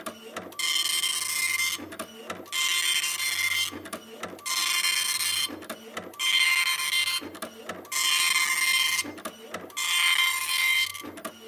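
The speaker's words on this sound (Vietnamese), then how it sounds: "là tiếng máy in" A printer running in repeated cycles, each a loud whirring pass followed by brief mechanical clicks and shuffling, about six passes in a steady rhythm.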